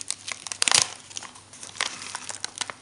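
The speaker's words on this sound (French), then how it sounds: "c'était envoyé dans une enveloppe bulle" A bubble mailer envelope being handled, giving close, loud crinkling and crackling bursts with the sharpest rustle early on and lighter crinkles after.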